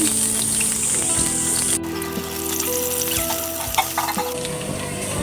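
Boiled beef sizzling as it fries in oil with some butter, a steady dense crackle throughout with a few stirring clatters, close and fairly loud, no talking.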